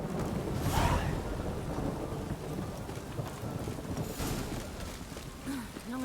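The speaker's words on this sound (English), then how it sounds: "It's raining again." Steady rainfall from The Witcher 3 keeps up a broad hiss, with a soft thunder rumble early on, and no talk over it.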